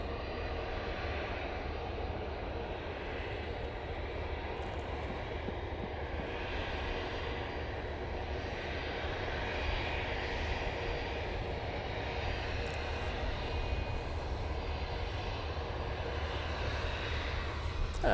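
Airliner departing Manchester Airport for London Heathrow, a steady broadband engine roar heard from a distance, building slightly in the second half of the clip.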